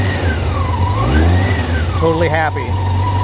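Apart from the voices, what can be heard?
1987 Honda CBR600F Hurricane motorcycle engine idling with choke off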